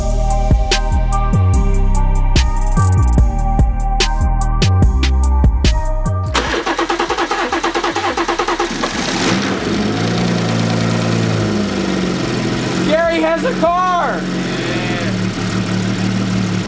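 A used car engine after an oil change, first heard as loud rhythmic cranking and chugging, then catching and settling into a rough, steady running idle close by, with no talking.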